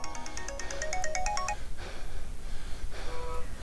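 A phone ringtone in a Minecraft horror map plays a loud, bright rising melody of rapid electronic notes, stops briefly, then repeats more faintly, with no talk over it.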